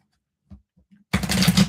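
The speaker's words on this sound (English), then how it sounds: "Give me 2 more shuffles for Leo here." Tarot cards are shuffled close by in a quick, dense riffle of papery flutters after a few soft taps and handling sounds, with no talking over it.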